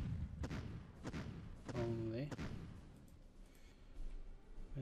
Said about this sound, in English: Next, let's use the 5th artillery only.